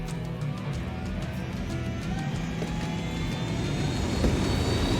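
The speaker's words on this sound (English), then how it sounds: "Here's your copter." Helicopter flying in the video game Ghost Recon, a steady droning engine and rotor roar that holds constant and swells slightly louder toward the end, with no talk.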